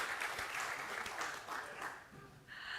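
A crowd claps at a New Orleans second line dance discussion, a loud, even burst of applause that dips briefly and swells again, with faint voices underneath.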